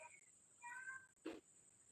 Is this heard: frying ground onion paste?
no